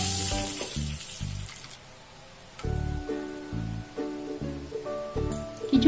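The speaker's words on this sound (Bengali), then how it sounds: "আরও একটা মাছ আমি ভেজে নিচ্ছি" A pomfret fish fries lightly in mustard oil in a pan, a close, steady sizzle broken by repeated knocking thumps of a utensil against the pan, with a quieter lull midway.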